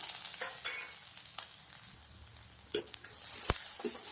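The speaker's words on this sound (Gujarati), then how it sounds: "1 ચમચી તેલ મસ્ત ગરમ થઈ ગયું છે, સમારેલું આદુ અને લસણ નાખું છું, એક ડુંગળી સમારેલી નાખું છું" Sliced onion with chopped ginger and garlic frying in a spoonful of hot oil, a continuous close hiss and sizzle broken by occasional sharp pops and light stirring scrapes, with no voices.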